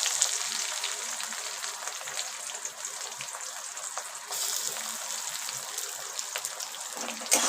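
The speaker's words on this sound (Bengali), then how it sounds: "গোটা জিরে তেলে দিয়ে দিলাম, তেজপাতা দিয়ে দিলাম, পেঁয়াজ কুচিগুলো দিয়ে দিলাম।" Chopped onions, whole cumin and bay leaf fry in hot oil with a steady, dense sizzle that stays close and even throughout, with no voices.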